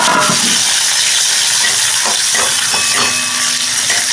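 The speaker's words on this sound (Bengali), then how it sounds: "এগুলো এবার একটু হালকাভাবে ভেজে নিচ্ছি" Sliced onion with dried and green chillies frying in hot oil in a pan, a steady loud sizzle and hiss with small crackling spits throughout.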